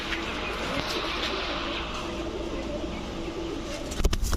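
Low, throaty cooing from a red-necked hen pigeon repeats steadily amid a dense flock murmur, with a brief flutter near the end.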